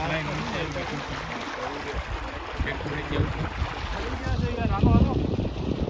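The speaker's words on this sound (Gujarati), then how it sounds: "આ ટ્રેક્ટર થી પાણી કાઢી" A tractor pumping water up from a newly dug farm borewell: a steady rumbling engine with rushing water, fairly loud and continuous, with people talking over it.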